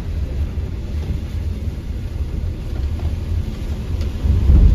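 Rain falling during a night thunderstorm, a steady low rumble and wash that swells louder near the end, with no voices.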